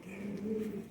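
A Sialkoti or Kasuri pigeon hen coos close by, giving a soft, continuous low rolling call that runs for just under a second with no other sounds.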